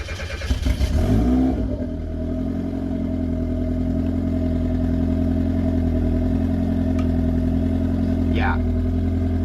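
A turbocharged drift car engine cranks and catches, then settles into a loud, steady close-up run, with a brief rising whistle late on.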